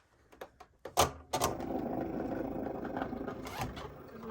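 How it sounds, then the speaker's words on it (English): A Cricut cutting machine powers on with a few soft mechanical clicks and clacks, then settles into a quiet, steady whirring hum close by. "now what you're gonna do is turn on your Cricut"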